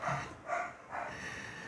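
A dog barking in a home setting, a few faint, quick yips and barks spaced out over a low background, with no talk.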